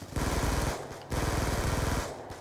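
Enemy fire in an online shooter comes as two long bursts of rapid automatic gunshots, loud and close, with a short pause between them.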